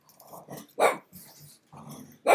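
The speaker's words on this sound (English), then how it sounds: "My dogs are going bananas." Several dogs bark in loud, excited bursts, sharp yips mixed with lower growly barks coming in uneven clusters close by, with short gaps between outbursts.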